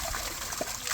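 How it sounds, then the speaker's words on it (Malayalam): Water gushing from the outlet of a motor pump feeding a homemade fish pond filter, a steady close splashing flow with a brief gurgle partway through. "ഇപ്പോൾ നമുക്ക് അടിപൊളിയായിട്ട് വെള്ളം വരുന്നുണ്ട്."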